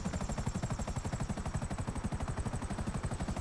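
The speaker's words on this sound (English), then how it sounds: "I know how to fly my chopper in and out of small holes." Helicopter flying in GTA 5 Online, its rotor giving a fast, steady chopping thump throughout, close and loud with a faint high whine above, no speech.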